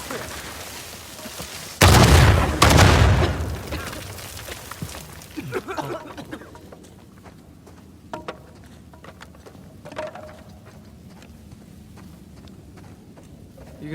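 Exploding mummies in Uncharted 4, PS5 remaster: a loud nearby blast hits, followed by a second burst and rumbling debris, then quieter scuffling game sounds and faint clicks trail off.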